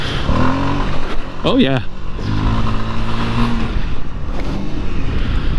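A Voge 300 Rally adventure motorcycle rides over a gravel dirt track, its engine a steady close drone with wind rush, while a rider's voice speaks briefly over it.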